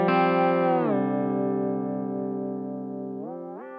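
Polyphonic electric guitar chord bent downward by a FOMOfx Virtual Jeff Pro pitch-shift effect imitating a pedal steel, holding a sustained harmonic chord before sliding back up near the end, loud and alone.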